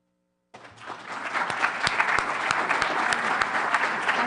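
Applause breaks out suddenly after a talk at a marine mammal symposium, a steady wash of many hands clapping that holds evenly, with a few sharper individual claps standing out close by.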